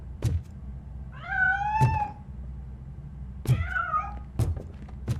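Two drawn-out meows from a cat in the video game RoboCop: Rogue City, each a rising-then-falling cry, mixed with several dull thunks and knocks over a low ambient background.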